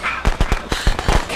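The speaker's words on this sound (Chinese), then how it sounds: "鞭炮声吧" Firecrackers going off in the horror video game Friday the 13th: a rapid string of about eight sharp, loud cracks and pops in quick, uneven succession, close and punchy.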